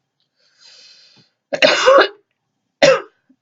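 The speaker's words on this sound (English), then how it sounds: "apologize for the coughing." A person coughing and clearing their throat, lungs damaged by sleeping through a house fire, with a soft breathy sound first, then a harsh rasping throat clear and a sharp single cough, close and alone.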